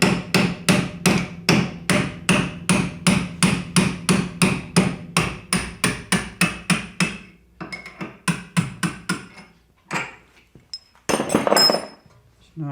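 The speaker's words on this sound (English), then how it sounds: "I've got the nut off the end and I'm just bashing the bolt out now." A hammer bashes a bolt out of the front shock absorber mount on an MGB. Loud, steady metallic blows repeat in a quick, regular rhythm, then slow to a few scattered taps and a final clatter.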